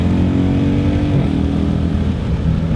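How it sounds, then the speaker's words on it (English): A Dodge Durango SRT's 475-horsepower engine drones loud and steady from inside the cabin while it is driven in manual mode, a deep continuous rumble with slight shifts in pitch. "Get more motor noise actually like this."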